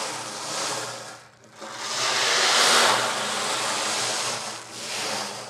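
An ocean drum or rain stick is tipped to mimic rain and rushing water, making a close, continuous hissing wash that swells and fades in slow waves with a brief lull near the start.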